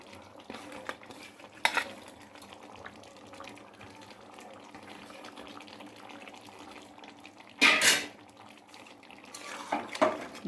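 Fried eggs and fried onions are stirred together in a pan. A steady low sizzle runs throughout, broken by a few louder scraping and clattering bursts from the utensil.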